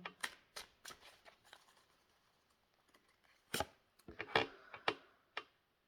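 Santa Muerte tarot cards are shuffled and snapped down in quick clusters of crisp taps and riffles, with a quiet pause in the middle.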